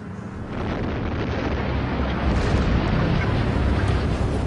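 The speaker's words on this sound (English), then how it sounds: "It's called explosion welding." An explosion welding blast goes off far underground as a sustained, heavy roar that fills the clip with broadband rumble, loud and continuous rather than a sharp single crack.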